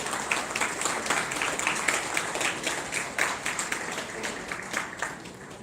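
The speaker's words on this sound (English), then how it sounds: "Let's have a big round of applause" An audience claps at a film festival award ceremony, with steady, moderately loud applause that continues evenly without speech.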